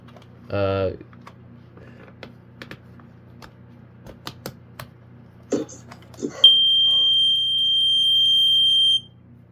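Faint clicks and a short buzz lead into a loud, steady high-pitched alarm tone from a First Alert SA76RC smoke alarm under test, sounding continuously for a few seconds before cutting off.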